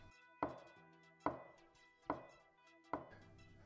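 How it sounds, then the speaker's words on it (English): Silverware enemies stab repeatedly in the Huff & Puff video game, four sharp, evenly spaced clinking hits with short ringing decays, crisp and close. "They'll continually stab at the player."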